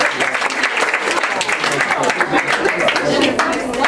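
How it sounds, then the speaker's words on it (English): Audience applause at a criminal justice panel forum, a dense, steady wash of many hands clapping at fairly close range that holds for the whole stretch, with no talk over it. "Give them a round of applause and join the branch."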